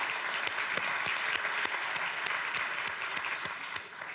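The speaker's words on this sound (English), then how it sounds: "Round of applause." An audience at a research and innovation policy conference opening applauds a minister, a dense sustained clapping that stays fairly even before easing slightly at the end.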